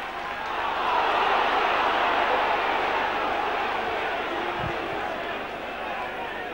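A rugby league crowd at Leeds against Doncaster roars after a tackle, a broad, loud wash of cheering that swells quickly, holds, then slowly fades under a commentator's voice.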